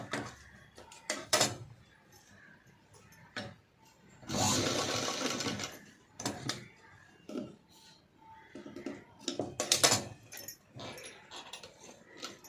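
A sewing machine stitches a padded blouse in several short bursts separated by pauses, with one longer run in the middle and handling clicks and rustles between stitches, close up.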